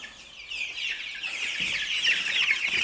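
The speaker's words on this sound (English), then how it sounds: "we're going to feed the chickens" Many chickens cluck and chatter together nearby, a busy, continuous flock sound with no talking.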